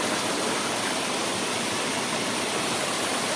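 A forest waterfall pours in a steady, dense rush of water that fills the whole moment evenly and loudly, with no voices.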